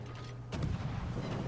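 The German destroyer Z 46 in World of Warships fires its guns, giving one sharp boom that settles into a rumbling tail over a steady engine drone.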